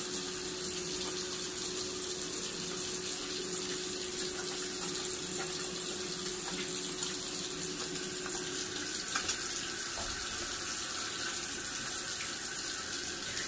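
A tap runs steadily into a sink while hands are washed with soap beneath it, a constant close splashing hiss with faint rubbing, no voices.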